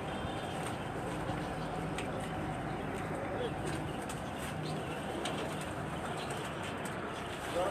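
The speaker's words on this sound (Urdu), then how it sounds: "ماشاءاللہ سے بہت ہی نایاب اور اچھے کبوتر" Pigeons on a Karachi rooftop coo softly amid a constant hiss of outdoor noise and background chatter, the birds heard faintly rather than up close.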